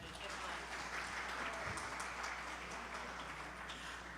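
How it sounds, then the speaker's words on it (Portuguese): An audience applauds a long-married couple at a talk, a dense, steady wash of clapping from many hands that holds evenly throughout at moderate distance. "palmas para eles, por favor"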